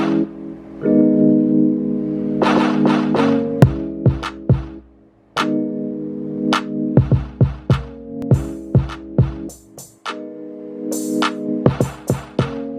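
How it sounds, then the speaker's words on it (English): Deep kick drum hits layered with a stomp sound form a West Coast beat, repeated thuds in quick groups over looping synth chords. "I'm going to layer that with like a little stomp sound, so it's going to sound like this."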